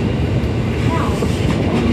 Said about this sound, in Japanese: 長崎行きの787系の特急電車です